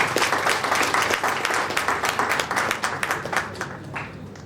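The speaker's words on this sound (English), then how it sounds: "So I think this moment deserves a great round of applause." Audience applause fills a hall at the ISBR college event in Electronic City for senior citizens, a close, dense clatter of many clapping hands that gradually thins and softens toward the end.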